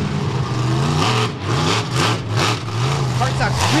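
The Gunslinger monster truck's engine after a big air launch at a beach event in Wildwood, NJ: a loud, close engine roar with rising and falling revs in several quick surges, a commentator faintly audible underneath.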